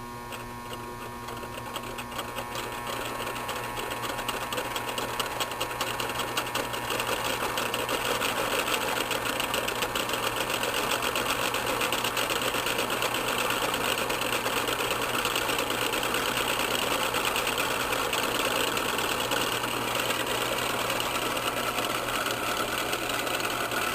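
A three-phase AC induction motor with a spiral-patterned rotor runs steadily under power, giving a continuous whirring drone with a mains-like hum and faint rattle, holding at an even level for the whole stretch with no voices.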